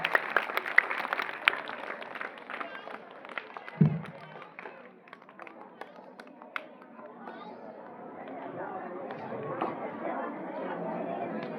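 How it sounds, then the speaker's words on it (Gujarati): Applause for departing teachers at a primary school farewell: scattered clapping and crowd chatter mixed with a speaking voice, with the clapping swelling into a fuller, denser round toward the end. "તાળીઓથી વધાવીશું."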